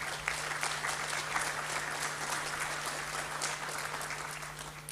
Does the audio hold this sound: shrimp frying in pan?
no